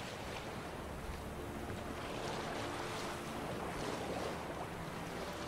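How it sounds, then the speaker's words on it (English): A boat moves across water in the video game The Witcher 3, with faint steady rushing water and wind noise and soft wave wash, continuous and without talking. "Fast travel on a boat."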